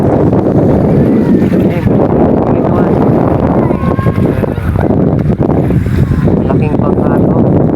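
Boat out on open water in Minalabac, Camarines Sur, with steady wind buffeting the microphone and the low churn of the hull, loud and continuous while people talk and laugh nearby.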